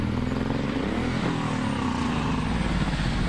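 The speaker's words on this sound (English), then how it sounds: "That's the sound of Rutledge's motorcycle unexpectedly going into neutral." A 2007 Suzuki Boulevard M109R cruiser motorcycle engine revs steadily and loudly up close, its pitch sagging briefly midway as the bike unexpectedly slips into neutral, with no voices.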